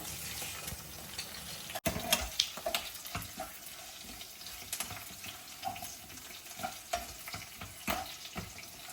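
Chopped ridge gourd sizzles steadily in a pan for chutney, with a sharp clatter near the start and repeated soft scraping and stirring knocks over the continuous frying hiss.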